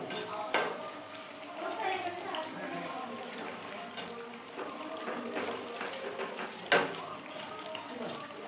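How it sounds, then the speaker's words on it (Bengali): Potato pieces fry in oil in a pan, a soft continuous sizzle broken by sharp clinks and scrapes of a spatula against the metal, with quiet stirring throughout. "এইভাবে একটু লাল লাল করে ভেজে নেব।"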